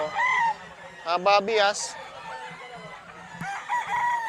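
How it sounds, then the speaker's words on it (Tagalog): A large rooster with bright red eyes crows once in a loud, close call, someone speaking before and after it with a few clucks and other fowl nearby. "Malaking manok."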